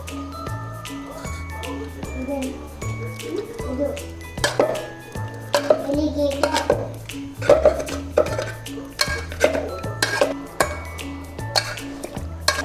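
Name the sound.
mashing cooked drumsticks for soup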